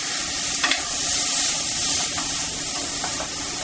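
Israeli couscous stirred around a dry pan while it toasts to a light brown, giving a steady close grainy rustle and soft sizzle-like hiss with faint scraping bursts, no voices.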